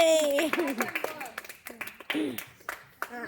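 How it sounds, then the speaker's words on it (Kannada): A young child claps her hands in a short, irregular burst of light claps, close and fairly quiet, mixed with speech from an adult and the child. "ಚಪ್ಪಾಳೆ."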